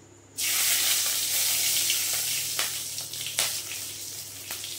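Whole garam masala of small and large cardamom, cloves, cinnamon and mace drops into hot oil, bursting into a loud, close, steady sizzle with a few sharp crackles and pops as it fries.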